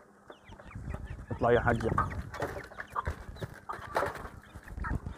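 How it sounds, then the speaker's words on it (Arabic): Farm chickens in a home poultry yard cluck and squawk nearby in uneven bursts. A person speaks briefly over them. "هذا الدجاج، الدجاج كيف دخل؟"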